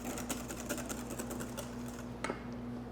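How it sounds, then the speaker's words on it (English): A whisk beating butter into hollandaise sauce in a bowl over a double boiler, a fast, even run of close metallic ticks and scrapes, with no talk. "just give it that one final whisk"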